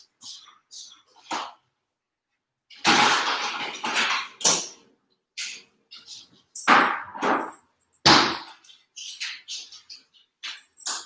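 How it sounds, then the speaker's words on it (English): Ice cubes clatter and clink into a glass in bursts of sharp rattling, near and fairly loud, separated by quiet gaps. "let me just go grab some ice in a glass real quick"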